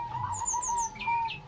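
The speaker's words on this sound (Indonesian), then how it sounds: "Nah itu suara perkutut putih" Soft, low coos of a white zebra dove at a moderate distance, accompanied by a few higher bird chirps.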